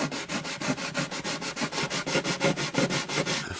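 Hand sanding with 500-grit paper over dot inlays in the bridge of an Alvarez Artist AD65 guitar, a rapid, even back-and-forth rasp, close and steady with no talking.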